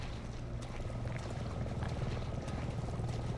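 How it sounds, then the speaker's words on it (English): A helicopter in the video game Resident Evil 7, heard over a bayou, gives a steady, fairly faint low drone with a constant rumbling hum that runs throughout. "I hear a helicopter."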